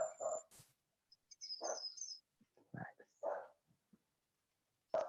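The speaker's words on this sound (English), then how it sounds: "So we got a little dog back here who is excited." A small, excited dog barks in short bursts, fairly close, with a voice speaking between the barks.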